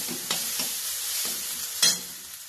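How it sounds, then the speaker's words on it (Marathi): A spoon scrapes repeatedly through masala as it roasts in a pan, about four strokes over a steady, close sizzle with no speech. "चांगलं भाजून घ्यायचं. एकसारखं हलवत राहा"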